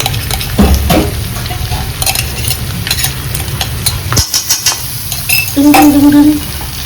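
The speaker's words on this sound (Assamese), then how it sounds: "এইটো দি পেলাই ফ্ৰাই কৰিম" Spices sizzle and crackle in a hot pan with ginger-garlic paste and dried red chillies. A utensil stirs and scrapes steadily, the sound is loud and close, and a brief scrape of metal is heard near the end.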